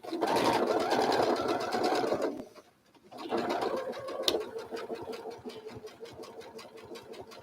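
A sewing machine doing machine applique, running in a fast steady rhythmic stitch close by, stopping briefly and then starting again more quietly.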